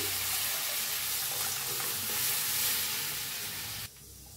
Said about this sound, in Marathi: हलवून असं शिजवून घेऊया।